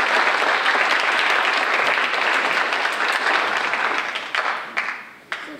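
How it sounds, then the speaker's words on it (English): A civics bee audience applauds the preliminary judges, a full, loud burst of clapping that holds steady and then thins out near the end into a few scattered, separate claps. "A round of applause for our preliminary judges"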